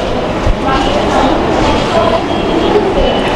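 A Kolkata Metro Green Line train stands at a station platform, its low rumble and hum filling the space with a brief clunk early on, while a person talks nearby over the steady mechanical drone.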